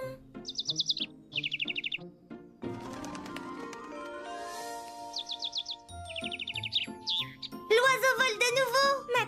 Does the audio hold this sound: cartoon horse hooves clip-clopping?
no